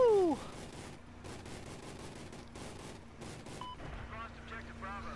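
Gunfire in a Battlefield game battle: a loud opening blast followed by repeated bursts of shots and distant booms, with faint whistling sounds near the end.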